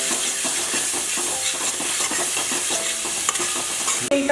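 Giant freshwater prawn malai curry masala with cumin powder and a splash of water is stirred and sautéed in a pan over a gas flame: steady close sizzling with repeated spoon scrapes throughout.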